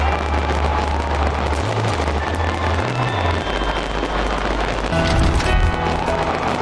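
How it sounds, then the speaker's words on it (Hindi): New Year fireworks over Auckland crackle and boom continuously in the distance, a dense rumbling barrage with a crowd murmuring beneath. "ऑकलैंड में बेहद अलग अंदाज में काउंटडाउन शुरू हुआ और फिर जमकर आतिशबाजी हुई"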